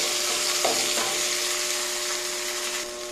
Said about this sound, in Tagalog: Siyempre ginisa. Kaya lagyan natin ng kamatis.